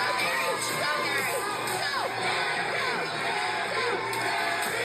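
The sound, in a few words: club crowd chanting and cheering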